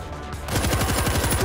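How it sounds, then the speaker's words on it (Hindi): A short, loud burst of rapid automatic gunfire in the zombie shooter World War Z, rattling in a fast even rhythm after a moment of quieter background, no speech. "अरे गन काम करती है देखो मार रही है"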